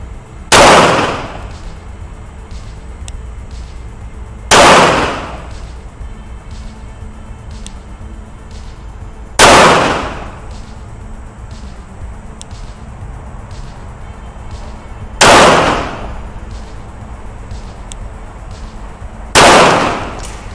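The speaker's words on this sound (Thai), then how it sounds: "ทีนี้ผมจะเปลี่ยนเป้านะครับยิงที่ตำแหน่งหัวนะครับ" A Rock Island Armory STK 100 pistol fires five loud, close gunshots at an outdoor shooting range in the Adisorn camp. The shots are spaced roughly four to five seconds apart, each with a sharp crack and a short decaying echo.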